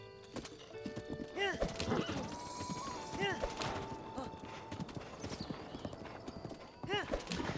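Horse hooves clip-clop in The Legend of Zelda: Breath of the Wild, with a steady rhythmic trot alongside neighs and whinnies, while a person talks over the game sounds.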